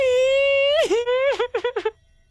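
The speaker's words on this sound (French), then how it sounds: "pourquoi est-ce que tu pleures?" A woman cries over a phone line, one long wavering wail followed by several short sobbing moans in quick succession, loud and close, then silence.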